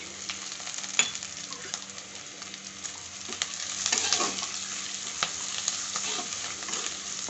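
Onions sizzle and fry steadily in a pan with bay leaf and dried chili for a Bengali-style egg curry, a continuous crackling hiss close up, with occasional stirring clicks and scrapes and no talking.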